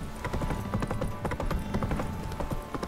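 Steady rhythmic hoofbeats of a galloping horse in The Witcher 3: Wild Hunt, continuous and moderately loud, with a low hum underneath.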